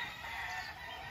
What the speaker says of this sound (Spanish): Tenemos gallinas, muchas gallinas indias, preciosas, muy, muy buen fenotipo.